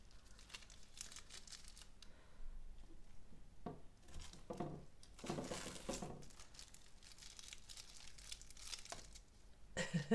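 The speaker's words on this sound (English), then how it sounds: "Oops, now the tape's coming off. Okay, we'll take the tape off." Wet, paint-covered tape is peeled off a surface coated in fluid acrylic and gloss varnish, making quiet crinkling and tearing bursts that come and go over faint background noise.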